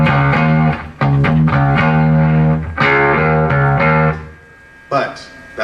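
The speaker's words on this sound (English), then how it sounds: "I would just turn it up and get more distortion up." Distorted bass guitar turned up loud, playing sustained thick notes in a short riff with a few choppy strums and a brief pause near the end.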